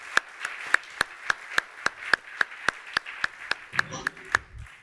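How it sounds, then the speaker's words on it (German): A lone pair of hands claps in a slow, steady rhythm at a lecture welcome, about fifteen sharp, evenly spaced claps close to the microphone, ending with brief murmuring and faint talk. "Ein Applaus für Herrn Schellnhuber."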